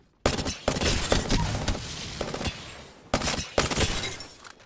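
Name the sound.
Prowler gun firing in select-fire mode, Apex Legends video game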